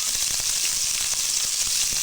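Onion paste with ginger garlic paste frying in four spoons of oil in a deep bottom pan, giving a steady, loud, close sizzle with faint crackles throughout and no talk.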